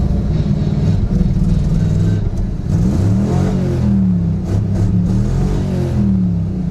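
A Chevy Nova engine revs unevenly with a dead spot and misfires, a loud close burbling idle rising and falling in pitch, with stumbling, lumpy pulses throughout.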